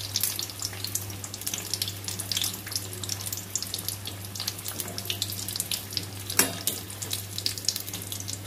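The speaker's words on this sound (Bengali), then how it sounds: "একটু লাল করে ভেজে নিয়ে নামিয়ে দেব" Chicken samosas fry in a pan of oil, producing a soft, continuous bubbling sizzle with faint crackles, quiet and steady over a low background hum, with no voices.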